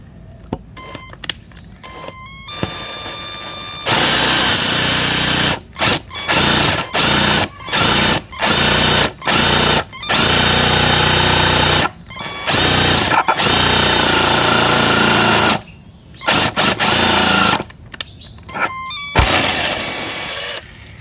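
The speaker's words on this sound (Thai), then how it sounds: "แล้วก็เจาะรูเลย" A power drill whirs in repeated bursts while drilling a hole in wood, some long and some short, with brief pauses between, loud and close, plus a few clicks and small knocks.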